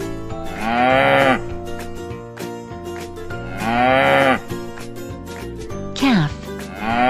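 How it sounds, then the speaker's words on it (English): Cartoon cow mooing in three long, drawn-out calls with a backing music track, each moo loud and close, separated by brief gaps. "a baby cow is a calf."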